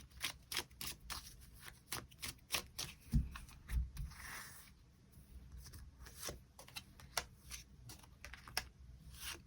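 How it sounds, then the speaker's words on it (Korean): Tarot cards being shuffled and drawn, close crisp riffling flutters and sharp slapping snaps in irregular bursts, with a softer sliding whoosh midway and quick card taps alone without talk. "카드 뽑아보도록 하겠습니다"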